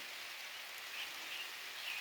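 Steady rain patters and hisses evenly for a couple of seconds, a soft continuous wash with no voices.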